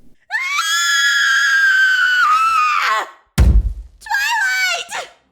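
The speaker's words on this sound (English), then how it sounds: "Pinkie screamed in horror" A loud, high scream of agony rings out as a sound effect in a fanfiction story reading, holding for about three seconds, then a heavy thunk lands, followed by a second, shorter shrieking cry.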